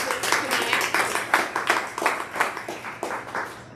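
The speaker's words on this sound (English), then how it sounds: "let's give Sean a round of applause in his absence tonight" Rhythmic clapping from a small audience at a podcast recording, distinct hand claps falling in a steady beat at moderate loudness, with faint voices beneath.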